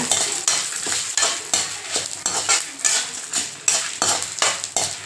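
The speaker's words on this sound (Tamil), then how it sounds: "ஒரு நாலு பல் பூண்டுங்க உங்கள் காரத்துக்கு ஏற்ற வரமிளகா போட்டு அதையும் நல்லா வறுத்துக்கோங்க" Garlic cloves and dried red chillies being stirred and fried in a pan for a coconut-lentil chutney, with a steady sizzle and repeated rhythmic scrapes of a spoon against the pan, close and fairly loud, no talking.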